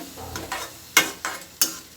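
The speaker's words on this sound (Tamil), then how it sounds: "இப்போ இது நம்மளுக்கு நல்லா கொதிக்கட்டும்" Eggplant and tamarind gravy bubbling and sizzling in a pan, with a steady frying hiss broken by several sharp stirring scrapes close by.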